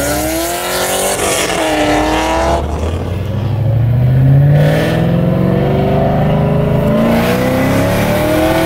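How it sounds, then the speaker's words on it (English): A 2017 Honda Civic Type R drifting on a street, its engine revving loud and close with rising and falling pitch while tires squeal through the slide, continuous for several seconds. "Surprise drift by Anthony."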